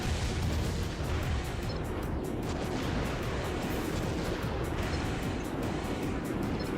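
Missile explosions in the Armored Core: Silent Line video game, a continuous dense rumble of blasts and booming impacts that stays loud from start to finish.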